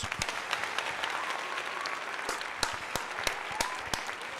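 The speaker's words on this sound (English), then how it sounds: "Let's give you a round of applause." A steady round of clapping from a small crowd, continuous and moderately loud, with a few sharper claps standing out.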